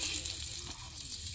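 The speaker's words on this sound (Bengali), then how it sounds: "আমি একটু লাল লাল করে ভেজে নিচ্ছি ডিম" Eggs frying in hot oil in a village-style home kitchen for egg curry, a steady close sizzle with soft crackling running through the whole moment, with no voices.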